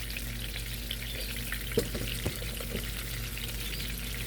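Garlic shrimp frying in a stainless steel pan give a steady, dense sizzle throughout, with a couple of brief clinks or stirs partway through and no voices.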